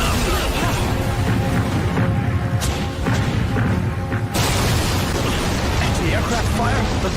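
Anti-aircraft fire in an anime scene: dense, continuous rumbling barrage with scattered bursts and booms, loud throughout and briefly thinning midway.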